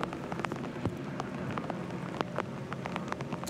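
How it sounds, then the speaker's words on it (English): Steady rain falls on the Barcelona race circuit during a Blancpain GT Sports Club race, a constant hiss with scattered sharper drops hitting the surface, heard alone and fairly faint. "tire debris and rain just adding to the puddles by the moment."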